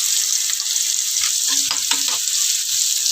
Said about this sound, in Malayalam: മൂത്തു ഉള്ളി മൂത്തു ഇനി അത് ഇതിലേക്ക് ഒഴിക്കാം